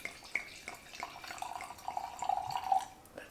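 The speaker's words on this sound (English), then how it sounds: "I got my wine, and we're gonna pour." Wine pours into a skeleton-shaped glass in a kitchen, a soft, quiet liquid trickle and gurgle that swells over a couple of seconds after a few light clinks.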